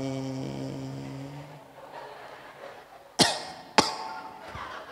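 Two sharp, loud coughs from a man, close to the microphone, following a held tone that fades into a quiet, reverberant room.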